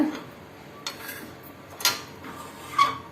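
Food being transferred into a cooking vessel while making Thiruvathirai kali: three distinct metallic clinks of a utensil against a pot, spaced about a second apart over quiet background.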